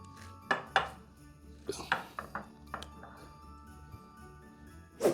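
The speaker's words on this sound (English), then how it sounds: "now to compress this in the pan, use some more nonstick. Flatten it as best we can" Sticky rice krispie mixture pressed flat in a greased pan, giving a few sharp metallic clinks and knocks of utensil against pan spaced over a few seconds, close and moderately loud, with quiet low rustling between.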